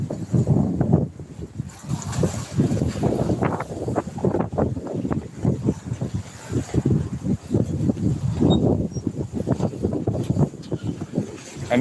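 Strong wind buffeting the microphone on a fishing trip, a continuous rough rumbling roar with gusty surges throughout, no clear voices.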